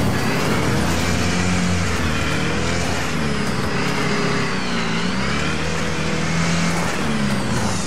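Heavy big rig trucks roar and rev through a deathmatch at the Dirt Devil Stadium in Wreckfest, with loud continuous engine drone, shifting pitch and clanking, close and dense with no talk.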